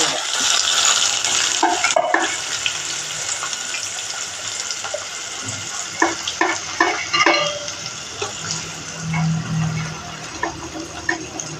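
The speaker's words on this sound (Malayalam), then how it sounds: "ബിരിയാണിക്ക് സബോള ഇട്ടിട്ടുണ്ട് അത് വഴന്ന് വരട്ടെ" Onions sautéing in a pan for a curd curry, a close, steady sizzle with occasional stirring scrapes and clinks of a utensil against the pan, and no clear talking.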